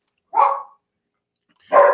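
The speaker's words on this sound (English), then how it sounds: "my dogs are upstairs and they're going nuts" Two loud, sharp dog barks from several dogs upstairs in a house, spaced about a second apart with silence between them.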